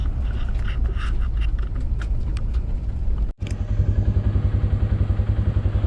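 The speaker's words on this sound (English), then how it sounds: "We'll get these tractors going." Farm tractors are readied for dove field prep. An engine runs with rough rattling, then cuts off briefly with a thump, and a tractor engine catches into a loud, close, steady chugging idle.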